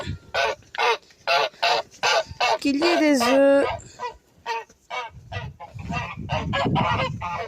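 Several Toulouse geese honk loudly in rapid bursts nearby, with one drawn-out call, while a person speaks briefly in between.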